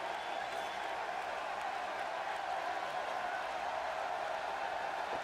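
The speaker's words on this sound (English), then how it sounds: "And we have the glitch where the crowd is still cheering" Constant crowd cheering from a WWE wrestling video game, stuck on as a glitch: a dense, even roar of applause and voices with no breaks, steady throughout and moderately loud.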